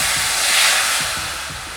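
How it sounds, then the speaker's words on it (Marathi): Water poured into a hot kadhai just after roasting sesame seeds for til chikki, a loud, steady broadband sizzling hiss that swells briefly then eases off, with no voices. "कढईमध्ये पाणी घालत आहे"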